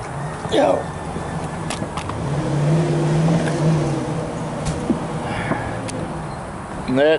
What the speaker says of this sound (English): And that noise is Benjamin starting his car.